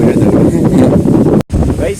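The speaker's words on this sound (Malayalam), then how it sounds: "നല്ല രീതിയിൽ കാറ്റുണ്ട്" Strong wind on a beachside concrete path buffets loudly against the microphone in a continuous rumbling roar, with a voice talking through it.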